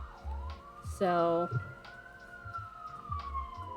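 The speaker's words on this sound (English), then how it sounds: "as I wait for the siren to get the fuck out of here" An emergency vehicle siren passes nearby with one long, steady wailing tone that rises slightly and then slowly falls. A voice speaks briefly, and scattered background noises sit under it.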